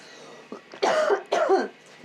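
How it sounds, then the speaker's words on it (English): A woman coughs close by aboard a sailboat with mold in the stateroom, two harsh bursts with a throat-clearing rasp, preceded by a short intake of breath. "oh my gosh, she's coughing"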